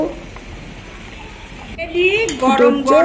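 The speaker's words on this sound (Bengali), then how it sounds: "পেঁপের সাথে চালগুলো মিশ্রণটা একটু নাড়াচাড়া করে দিতে হবে" A spoon stirs a rice and papaya khichuri mixture in a pot, giving soft scraping and clinking against the metal, growing louder toward the end alongside faint bubbling.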